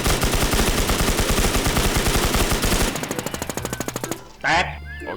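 Rapid automatic gunfire in the Warz Infestation Sea game, a dense sustained burst that gives way to slower, spaced shots before a brief electronic effect near the end.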